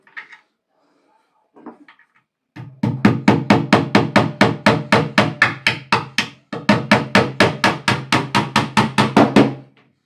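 A missing nail driven in with a hammer in a village house: after brief faint knocks, a long run of loud, evenly spaced blows rings out close up, about three per second, with one short pause midway.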